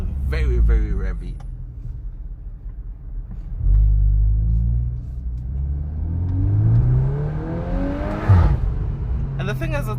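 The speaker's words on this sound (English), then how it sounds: "The engine is very, very revvy." A 2024 VW Golf 8 R engine revs up in rising sweeps at close range, climbing to a sharp peak before settling back to a steady idle rumble.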